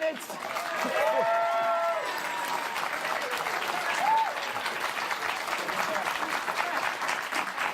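Sustained applause from a large television studio audience, a dense continuous clatter of clapping at steady loudness, with faint voices mixed in.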